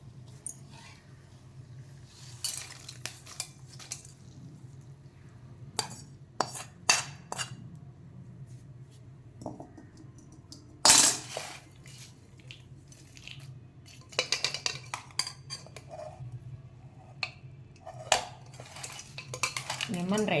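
A metal spoon scrapes and clinks in a steel vessel as a tempering is stirred into rice for lemon rice, with irregular close taps and scrapes over a steady low hum, no talking.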